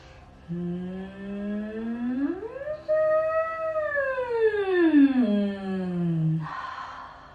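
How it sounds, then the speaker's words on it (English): Breathing exercise from a kids yoga lesson: a voice hums a sustained tone that rises and then glides down like a roller coaster, ending in a breathy exhale, close and clear. "as we travel down the roller coaster, our voice is going to travel lower pitched, and we're going to take a breath out"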